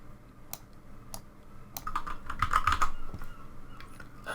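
Fingers type on a computer keyboard in bursts of quick soft clicks, close and fairly quiet, with a denser flurry of keystrokes in the middle.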